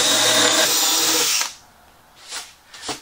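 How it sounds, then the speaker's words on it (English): A power drill whines loudly for about a second and a half while drilling holes in wood, then stops; two brief bursts of the drill follow after a short pause. "Just drill a bunch of holes."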